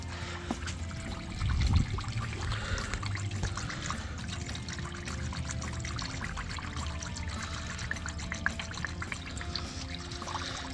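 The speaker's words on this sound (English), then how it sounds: "as we're pouring it in, we definitely hear the air filtering out through that bleeder line" Coolant pours steadily into the radiator of a Jeep Wrangler JK, a close, continuous trickling gurgle with a brief heavier glug near the start.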